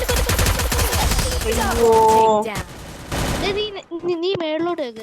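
Rapid automatic gunfire from a mobile shooting video game crackles loudly in dense bursts, then cuts off. A voice cries out and chatters over the game sounds as they continue.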